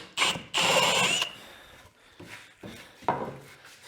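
A 10mm bit bores into wood for a saw horse build, giving short, close grinding bursts that stop and start, loudest near the beginning.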